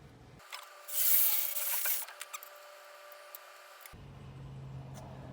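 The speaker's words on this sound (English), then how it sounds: "Okay, we finally got our hole drilled out." A 1/2-inch drill bit bores out a hole in a truck sway bar end link mount, giving a close, rough grinding whir that swells for about a second and then trails off into scattered clicks.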